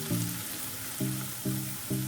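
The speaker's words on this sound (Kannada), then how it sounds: "ಈರುಳ್ಳಿ ಎಲ್ಲ ಕಲರ್ ಚೇಂಜ್ ಆಗೋ ತನಕ ಫ್ರೈ ಮಾಡ್ಕೋಬೇಕು" Onions frying in a pan for a drumstick masala: a steady, even sizzle runs throughout, with a few short tonal hums recurring underneath. No one speaks.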